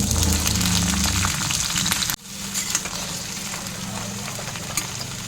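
Sliced pointed gourd (potol) frying in hot oil, a steady close sizzle that briefly drops out near the two-second mark and then resumes, slightly softer, continuing alone.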